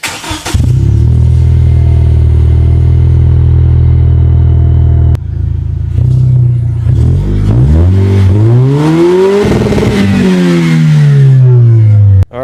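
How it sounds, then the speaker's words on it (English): A Lexus IS engine cold-starts, cranking and catching, idles loudly and steadily, then revs up and down several times in rising and falling sweeps, close by. "After it's on the ground, we'll go ahead and give it a cold start"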